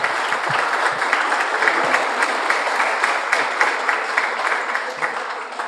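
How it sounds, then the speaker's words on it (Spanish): An audience bursts into loud, continuous applause before a lecture on money laundering, a dense even wash of many hands clapping that holds steady throughout. "Les pido un fuerte aplauso"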